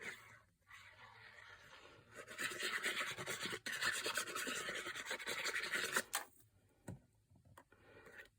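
A fingertip presses and rubs paper card flat while sticking it down for a handmade thank-you card, giving a soft, steady rasping friction near the mic that swells for a few seconds, then fades to quiet handling.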